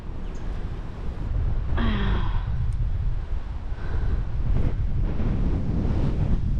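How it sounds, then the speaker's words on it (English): Strong wind buffets the microphone on a river bank during spring bass fishing in Florida, a loud continuous roar with gusty surges throughout and faint splashing. "In the windy wind."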